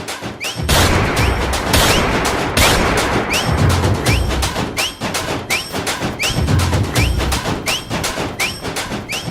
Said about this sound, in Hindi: वो गोलियां चला रही यार